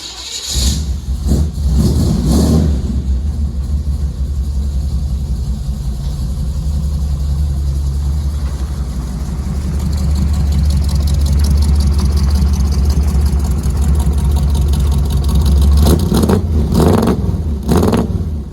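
A car engine runs steadily with a deep low rumble, revving a few times near the start and again at the end as the car is driven out of a shop before prep and paint work.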